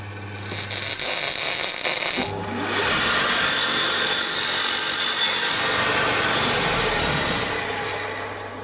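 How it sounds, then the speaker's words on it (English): Cutting 80mm off a 30mm steel shaft with a power tool, a loud, rough, continuous grinding rasp that pauses briefly once and then resumes, close and steady with no talking. "So we have to cut off 80mm of the shaft to make this shaft symmetrical."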